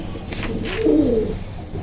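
Domestic pigeons, newly paired breeding birds, give a soft, low, throaty coo that swells in the middle of a short stretch against quiet background noise.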